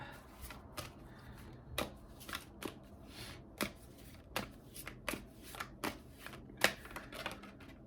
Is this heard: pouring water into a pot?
no